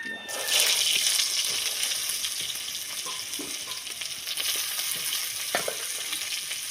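Cumin and chopped onion fry in hot oil in a pan, a loud continuous sizzle and hiss that holds steady, with a few faint knocks of a utensil.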